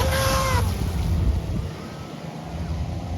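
A stock RC jet boat with a changed turn fin runs on water, its small motor whining briefly at first, then fading into steady wind and lapping water noise.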